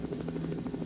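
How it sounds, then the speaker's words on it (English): Helicopter flying in a 1988 computer game, a steady low rotor drone with a faint rhythmic chop and a constant high electronic whine, heard alone. "I'm flying the helicopter now using the mouse, and that's one of the enemy helicopters."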